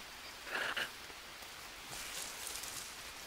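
Light rain falls outdoors as a soft, steady hiss with a few brief louder patters, fairly faint and without any talking.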